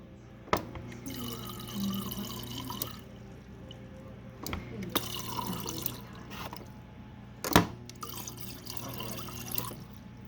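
A thin stream of water runs steadily from a leaking Whirlpool refrigerator water dispenser that keeps flowing when shut off, broken by a few sharp clicks and knocks, quiet and close with no talking.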